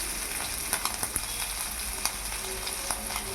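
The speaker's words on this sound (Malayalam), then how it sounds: "വെളുത്തുള്ളിയും കൂടി ചേർത്ത് ഒന്ന് ഇളക്കി കൊടുക്കുക." Ginger and garlic frying in hot oil with mustard seeds, fennel, curry leaves and dried chillies, a steady close sizzle broken by scattered crackles and the scrape of a spoon stirring through the pan.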